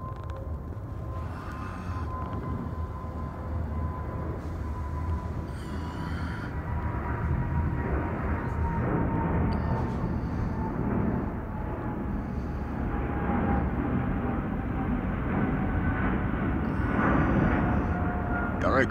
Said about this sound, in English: Here comes the real plane.